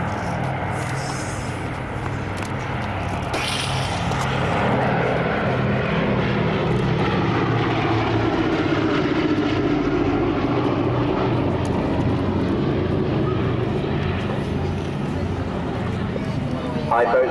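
Piston engines of the Boeing B-17 bomber Sally B drone steadily at an airshow at RAF Marham, a throbbing, sweeping roar that rises and passes overhead from a moderate distance, with voices faintly over the top.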